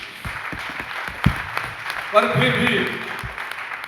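Audience applause at a seminar: a burst of clapping rises for about a second and a half, then fades, mixed with someone speaking Hindi over the crowd.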